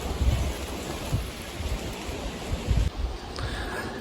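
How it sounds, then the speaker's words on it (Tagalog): Steady light rain patters continuously on a garden with a broad hiss and occasional low rumbles, fairly close. "maambon-ambon pa"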